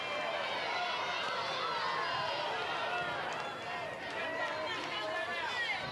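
Fans at an Oregon Ducks versus Weber State college softball regional game create a lively, continuous hum of chatter and cheering, with a commentator talking over the crowd noise.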